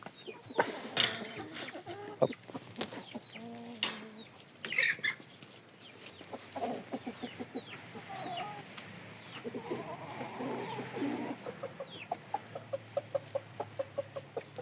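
Chickens let out into an outdoor run in a permaculture garden cluck and chatter nearby, with a rooster's calls mixed in, building into a rapid series of rhythmic clucks toward the end.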